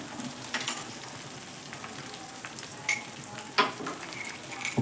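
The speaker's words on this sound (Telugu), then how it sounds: "దీన్ని మంచిగా కలిపేసుకోవాలి." Egg and soya chunk fried rice being stirred and tossed in a hot pan, a soft continuous sizzle with scattered scraping clicks and a few sharper knocks of the spoon against the pan, no talking.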